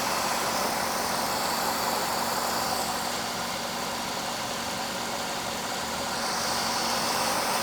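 A Cadillac engine with a misfire idles steadily up close, a continuous rough mechanical hum with a constant loudness and no voices.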